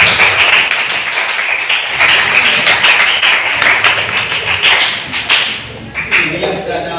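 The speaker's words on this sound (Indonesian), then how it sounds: "Tepuk tangan untuk kalian semua" A group bursts into sustained, dense applause at a school event, the loud clapping filling nearly the whole stretch before thinning and fading toward the end.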